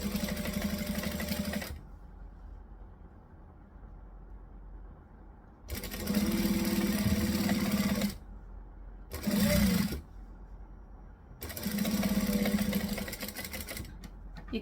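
A sewing machine stitches fabric for a bag, running in three loud, close bursts of rapid, even needle clatter separated by quieter pauses.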